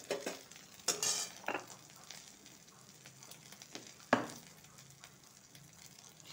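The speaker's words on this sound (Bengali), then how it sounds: "আদাটা ভাজবো আর একটু জিরার গুঁড়ো ধনিয়া গুঁড়ো দিব।" Ginger and spices frying in a pan, with a soft background sizzle broken by sharp scrapes and clinks of a spatula stirring against the pan, close and fairly quiet, no talking.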